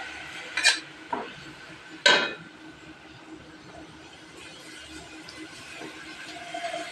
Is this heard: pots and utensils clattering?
yes